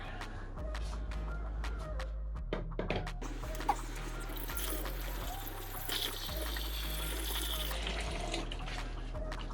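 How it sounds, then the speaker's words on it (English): Water pours and splashes steadily for several seconds into a 6-cylinder engine, against a low humming background. "let's put water in and see if it comes out anywhere"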